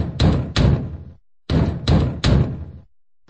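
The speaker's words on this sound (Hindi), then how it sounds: "मेरे रूम का दरवाजा बाहर से कोई बेतहाशा खटखटा रहा था।" Someone pounds hard on a room door in two loud volleys, two heavy knocks and then three, each hit booming close with a short wooden ring.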